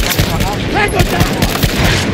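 Rapid gunfire bursts and explosions from a Battlefield 2042 match, dense and loud throughout, with a shouted voice partly overlapping the shooting.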